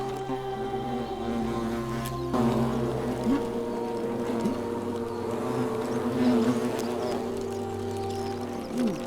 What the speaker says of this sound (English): Was there a hornet's nest above this?